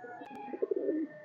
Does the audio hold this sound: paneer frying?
no